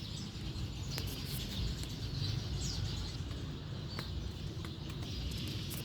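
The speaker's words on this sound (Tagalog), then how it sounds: "Naririnig nyo yung huni ng mga ibon nasa loob." Birds calling from inside mangrove trees at dusk in Alaminos, Pangasinan: scattered faint chirps and tweets over a constant low rumbling background, distant and soft.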